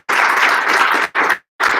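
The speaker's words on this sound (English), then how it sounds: "Let's give Emily another round of applause." Lecture audience applauding at the end of an energy talk, a dense burst of clapping that breaks off briefly twice before resuming, loud and close.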